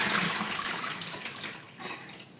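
Water pours steadily out in a loud, continuous rush, draining close by with a splashing hiss that eases slightly toward the end.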